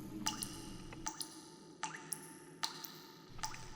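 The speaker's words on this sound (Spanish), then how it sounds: "un ligero, pero constante goteo de agua" Slow, light water drips fall one at a time in an otherwise quiet room, about five or six crisp plinks spaced irregularly over a few seconds, close and clear.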